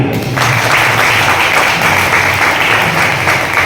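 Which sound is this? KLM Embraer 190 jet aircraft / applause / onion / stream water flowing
applause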